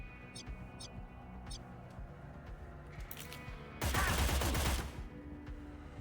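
A burst of gunfire rips out in the video game Cyber Knights: Flashpoint, one loud rapid volley lasting about a second, preceded by a few small chirping game effects over a quiet background.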